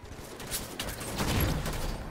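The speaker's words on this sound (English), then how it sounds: "Classic battle rifle, dude." Battle rifle gunfire in the Halo video game, bursts of shots crackling over game background noise, moderately loud and continuous for about two seconds.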